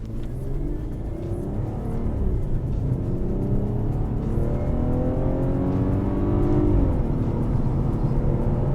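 A Volkswagen CC VR6 with all-wheel drive pulls away hard from a traffic light, the engine note climbing steadily through the revs with a rising whir, heard from inside the car without speech.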